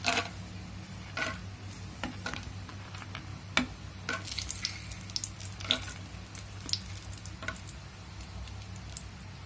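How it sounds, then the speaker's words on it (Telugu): Peanuts frying in a hot pan, a steady sizzle broken by scattered sharp ticks and pops of nuts jumping and hitting the metal, close and without talk. "దాంట్లో ముందుగా ఈ వేరుశనగ గుళ్ళు వేసుకొని వేయించుకోవాలి"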